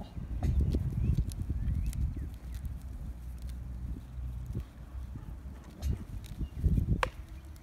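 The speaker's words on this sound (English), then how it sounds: "There Cody is, galloping away to his herd." Hooves clip-clop steadily on the ground as an alpaca gallops off toward its herd, with wind rumble and a few faint goat bleats in the background.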